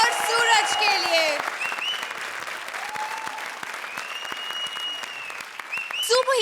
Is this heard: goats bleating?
no